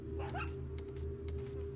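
A dog gives a couple of short, high whimpers against a steady low background hum in Resident Evil 4's village, brief and fairly close.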